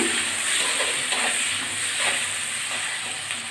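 Vegetables frying and being stirred in a pan, a steady close sizzle and hiss with soft scraping strokes repeating at intervals, no voices.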